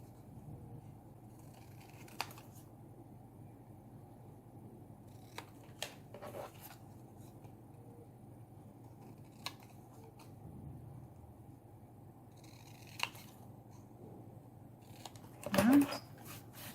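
Scissors cut excess paper from mini album pieces, sparse crisp snips and rustles scattered across a quiet room, with a louder crinkling burst near the end.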